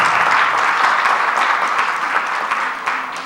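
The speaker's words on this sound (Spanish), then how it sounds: "Un aplauso, por favor." An audience at a parliamentary open-forum session on telecommunications and internet applauds, with dense steady clapping that stays loud throughout and tapers slightly toward the end.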